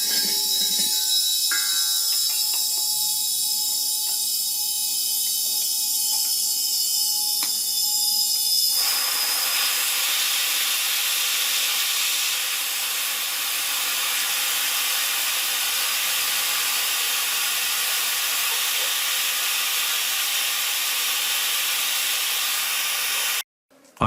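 Propane hisses steadily and loudly from the opened bleeder valve of a small LPG bottle while it is refilled from another cylinder. The hiss holds for about twenty seconds and then cuts off abruptly.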